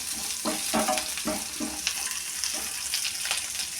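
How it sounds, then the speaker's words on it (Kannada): Four green chillies frying in a pan of oil for masala Maggi, with a continuous close sizzle and a run of soft spattering pops and stirring scrapes through the first half. "ಸ್ವಲ್ಪ ಮೆಣಸಿನ್ಕಾಯಿ ಹಾಕ್ತಾಯಿದ್ದೀನಿ, ಒಂದು 4 ಹಾಕಿಬಿಟ್ಟು ಈ ಥರ ಫ್ರೈ ಮಾಡ್ತಾಯಿದ್ದೀನಿ"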